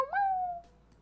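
A single short, clear meow rises and then trails off, close by and alone.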